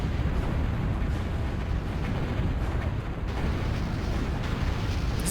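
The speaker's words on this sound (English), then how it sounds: "Experimental arty bots gonna be firing." Artillery bots firing in the real-time strategy game Total Annihilation, a dense, continuous rumble of booming shots and explosions that rolls on steadily throughout with no talk.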